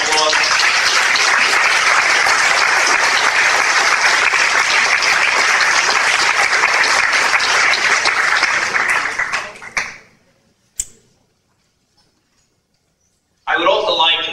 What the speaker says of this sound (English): would you please rise so we can give you a round of applause?